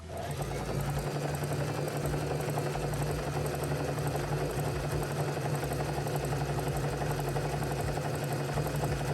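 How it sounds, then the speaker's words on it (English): A sewing machine runs steadily overcast stitching the raw edge of a t-shirt, a fast mechanical whir and hum stitching along without pause, close and continuous. "I'm going to show you what that stitch looks like on my sewing machine"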